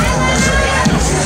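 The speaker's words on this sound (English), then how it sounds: "Keep those hands clapping." Loud crowd noise at a bikini contest at a Hooters restaurant, with cheering, shouting and general hubbub over a near, busy background, brief and unbroken.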